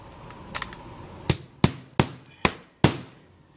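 Sharp hammer blows drive nails during a skylight installation, two light taps followed by five loud, evenly spaced strikes about half a second apart, close by with no talk.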